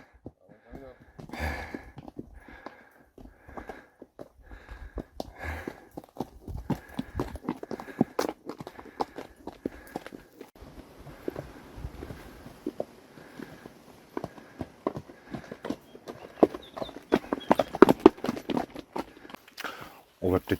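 A horse walks along with clear, rhythmic clip-clop hoofbeats that go on for a long stretch, close by and fairly loud, mixed with other scuffs and knocks as people talk.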